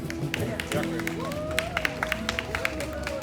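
Audience applauding at a city birthday celebration for Melitopol held in Lviv, with crisp claps standing out over crowd murmur and talk.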